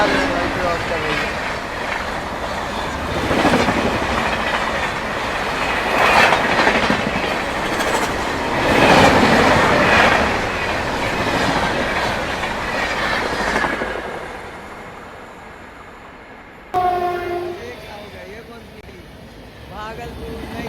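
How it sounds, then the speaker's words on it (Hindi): The Patna Kota Express rushes past at speed with a loud roar and clickety-clack of wheels, swelling and fading over twenty seconds, then an abrupt shift to quieter rolling noise with a tonal squeal; voices talk over parts of it. "सामने से क्रॉस करने वाली है पटना से चल के कोटा को जाने वाली पटना कोटा एक्सप्रेस"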